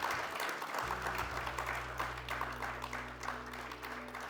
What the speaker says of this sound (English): I want you to give yourselves another round of applause.